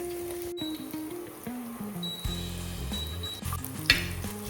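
Onions fry in a pan for a home lunch, with a soft continuous sizzle and occasional stirring clinks close by, and no talking.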